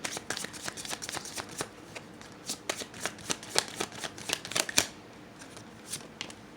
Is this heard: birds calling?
no